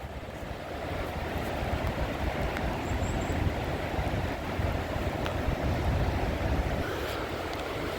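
Sea surf breaks and washes steadily along the shore at Saltrød-Hove on a rough day, a continuous broad roar with wind buffeting the microphone and no voices.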